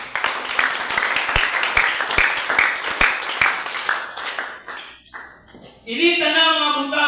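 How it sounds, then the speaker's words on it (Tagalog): Audience applause at a church service, a dense wash of many clapping hands that fills the room, fades out partway through, and gives way to a voice speaking over the close. "Palakpak para sige."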